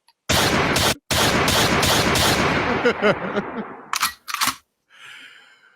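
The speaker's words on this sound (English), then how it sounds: "Hold on, let me get my gunshots together." Rapid bursts of gunshot sound effects fire in a dense, loud volley, briefly cutting out, then thinning into scattered single shots and a few sharp cracks before a faint tail of noise.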